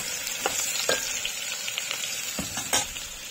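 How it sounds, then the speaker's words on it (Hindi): Cumin and mustard seeds fry with onion in a pan, giving a loud, continuous sizzle and crackle with a few sharper stirring scrapes, heard up close with no talking. "अभी हमने जीरा और मोहरी थोड़ा लेट डाला है तो देखा फ्राई हो रहा है"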